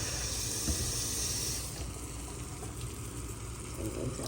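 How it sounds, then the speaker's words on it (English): Water is poured into a hot pan of sauteed vegetables and pepper steak sauce, a bright hissing sizzle for about a second and a half that then settles into a quieter, steady bubbling. "And then I'm going to add some water."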